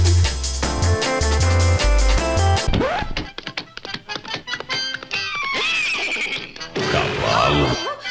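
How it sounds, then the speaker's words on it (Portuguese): A horse gives a sharp, loud whinny amid a choppy, edited cartoon soundtrack of music, bangs and thuds, with the neigh rising briefly and falling away. "Cavalo."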